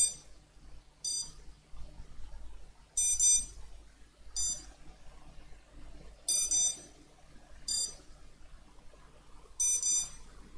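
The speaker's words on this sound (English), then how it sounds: "that beeping's gonna annoy me." A TBS Crossfire radio control device beeps in short high-pitched bursts, paired chirps repeating about every one to two seconds, steady and clear against a quiet room.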